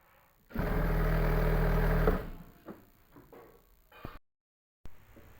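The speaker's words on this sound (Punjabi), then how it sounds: "ਇਹਦੇ ਤੇ ਆਪਾਂ ਇੱਕ ਹੋਰ ਸਲਾਈ ਲਾਵਾਂਗੇ" An electric sewing machine stitching lace onto a dupatta runs in one steady, close burst of about a second and a half, followed by soft handling clicks and taps.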